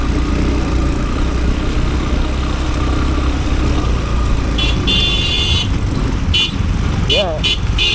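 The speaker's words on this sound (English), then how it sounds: "There's two trucks. Not enough space for passing here." Trucks rumble and idle close by on a narrow mountain road in Nepal, with a steady engine drone, several sharp horn toots near the end, and people talking over it.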